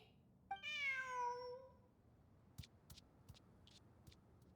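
A cat in Genshin Impact gives a single clear, drawn-out meow that rises and then falls, up close. It is followed by a few soft scattered ticks and taps against quiet ambience.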